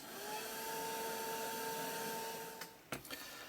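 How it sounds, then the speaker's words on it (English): A heat gun blows steadily while drying paint in an art studio, a close, even whirring rush with a faint tonal whine, ending in a couple of brief clicks as it shuts off. "let's bring up the heat gun, get it all dry"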